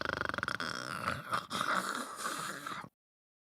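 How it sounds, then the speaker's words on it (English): A person snores while pretending to be asleep, a short run of rough nasal snorting breaths lasting a few seconds, close and fairly quiet, with no other voices. "is pretending to be asleep and snores"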